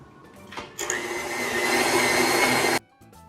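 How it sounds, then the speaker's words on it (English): An electric mixer creams butter with white and brown granulated sugar, a steady loud whirring hum that starts abruptly, runs for about two seconds and cuts off, with a faint brief motor sound just before. "our first step is that we are going to cream the sugar and butter together"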